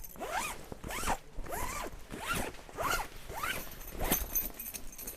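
Zip slider pulled back and forth along the zip of an awning panel, producing a run of about seven quick ratcheting zipping strokes, close and fairly quiet, with no voices.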